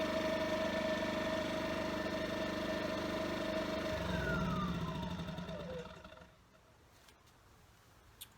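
A Generac IQ2000 portable inverter generator runs with a steady, loud engine drone that winds down and stops near the end, leaving quiet room tone.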